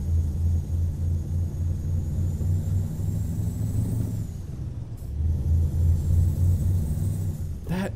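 Iveco 190 38 truck engine in Euro Truck Simulator 2 droning low and loud, dipping briefly around a gear change before revving up again, ending with a sharp hiss of air, no talk.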